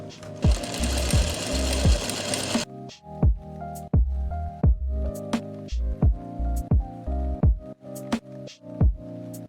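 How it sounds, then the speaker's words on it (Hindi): A sewing machine stitches along the side panel of a kurti: a loud continuous whir for the first few seconds, then repeated short bursts of stitching separated by brief pauses, close and with no talking. "तो आपने इसको ऐसे करके ऊपर से बिल्कुल नज़दीक इसके सिलाई लगा देनी है"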